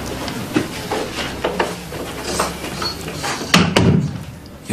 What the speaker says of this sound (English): Why don't you close the door?